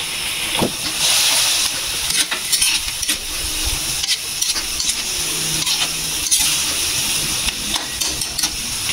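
Coconut milk goes into a simmering pot of Bicolano-style pork dinuguan, giving a steady close hiss of steam and bubbling with scraping stirs and brief clinks throughout, no talking.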